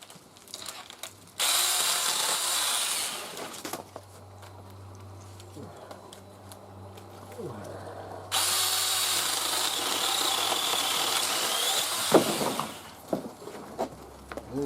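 A SeeSii cordless power saw cutting through tree branches, running in two loud, sustained whining bursts close by with a quieter pause between them and some clattering toward the end.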